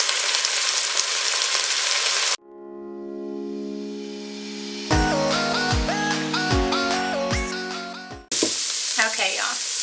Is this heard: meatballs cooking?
yes